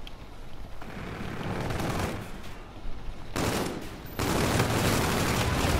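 Heavy video game gunfire, a sustained close barrage of shots and rumbling blasts that swells louder in the final seconds with no talking.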